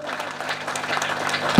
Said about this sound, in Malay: Tun Dr. Mahathir Mohamad, beri tepukan tuan-tuan.